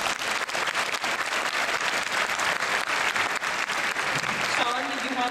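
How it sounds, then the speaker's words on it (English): A convention audience at an Otakon 2010 opening ceremony breaks into sustained, dense applause and clapping, with voices mixed in toward the end. "So a big round of applause for our dearly departed."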